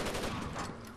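Rapid, dense burst of automatic gunfire from Rainbow Six Vegas 2, loud and continuous for about a second with no talk over it.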